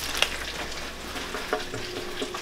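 Bacon frying in a pan, a steady, moderate sizzle with a few soft crackles and stirring clicks, heard close with no talk.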